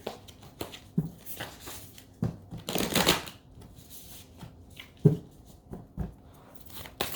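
A tarot deck is shuffled close up for a reading, in a series of short papery riffles and slaps spaced irregularly, with one longer rustling burst partway through and no voices.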